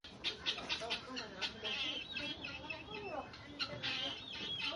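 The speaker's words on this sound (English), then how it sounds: "Guinea fowl sounds like cluck cluck." Guinea fowl calling in a quick series of harsh, repeated clucking and chattering notes, fairly close and lively, with uneven bursts running throughout.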